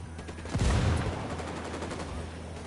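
Automatic gunfire in Ghost Recon Wildlands: a burst of rapid shots rings out near and loud, then thins into a trailing rattle with faint echoes. A voice is also present.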